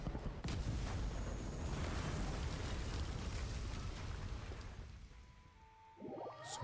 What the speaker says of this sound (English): Was that an explosion just now?